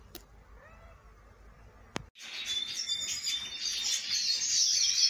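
Small aviary birds, including a European siskin, chirp and twitter busily in a continuous high bright chorus after a short quiet stretch broken by a couple of sharp clicks.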